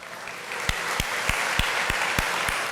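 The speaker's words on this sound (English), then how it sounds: "let's give them a round of applause" Audience applause at a 2023 State of the City address, steady dense clapping from a large room with a few louder nearby claps standing out at regular intervals, continuous for the whole stretch with no talk over it.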